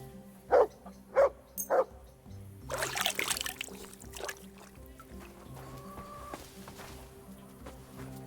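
Three sharp, close dog barks in quick succession from a dog in Kingdom Come: Deliverance 2, followed by quieter rustling and ambient movement with faint background hum.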